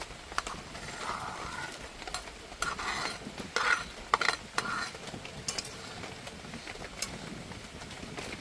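Fried prawns being added to a pan and stirred for a Bengali prawn malai curry, with a soft sizzle under intermittent scrapes and clinks of a spatula, close and fairly quiet.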